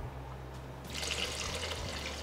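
Water is poured or run into a pot while making a tamarind and amaranth-leaf kuzhambu, a soft background hum suddenly giving way to a splashing, bubbling flow that continues to the end.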